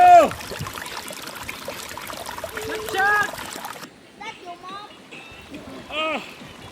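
Water splashes and sloshes as people wade and play in a clear river after heavy rains, with children's shouts and chatter over the steady flow.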